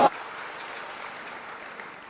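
Brief applause from an audience at a Bank Indonesia event on government payment digitalization, steady and moderately faint for about two seconds with no talk over it.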